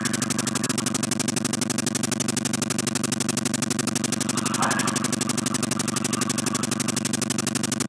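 Helicopter in the Bionic Commando video game, a steady, loud, fast rotor chop that repeats without a break throughout.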